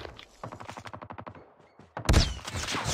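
Rapid automatic gunfire in Call of Duty Mobile multiplayer, a steady burst of evenly spaced shots followed by a louder, dense barrage of heavy fire and impacts.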